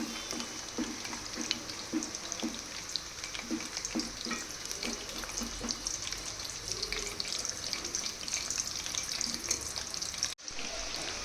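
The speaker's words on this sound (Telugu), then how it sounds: "లో ఫ్లేమ్ మీద కదవకుండా ఎక్కువ మంచిగా ఫ్రై చేసుకోండి" Pieces of amla (Indian gooseberry) fry gently in oil over a low flame, giving a steady, close sizzle with light crackles and occasional soft bubbling throughout.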